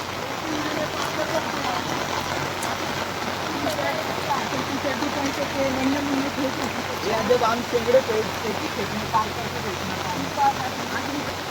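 Broad steady rush of a river running in full flood close to a farm where vegetables are grown, a continuous near wash of water with faint scattered splashes, no voices over it.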